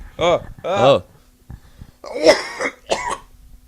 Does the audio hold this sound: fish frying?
no